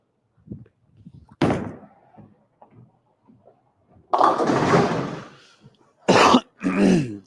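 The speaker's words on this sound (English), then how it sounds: "Honestly, I got a cough." A few sharp coughs ring out close by in otherwise quiet surroundings, with one long rough cough followed by two shorter bursts.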